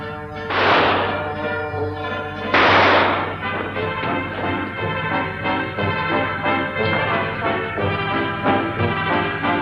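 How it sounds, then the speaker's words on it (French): Two loud, sharp gunshots ring out about two seconds apart, each with a booming echo, followed by a lingering rumbling background, in a Sherlock Holmes night train drama with no speech. "Tirez, Holmes, tirez!"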